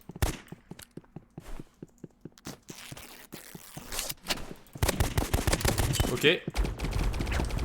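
Bursts of gunfire from a Roblox shooter game rattle in rapid volleys, sparse at first and then dense and loud, with a player speaking briefly over them.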